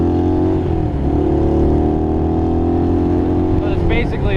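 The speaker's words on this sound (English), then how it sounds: "But it's basically a bicycle with an engine," A 1973 Honda CL175 motorcycle engine drones steadily while riding, a loud close buzzing hum with strong wind rush that shifts pitch slightly near the end; someone talks over it.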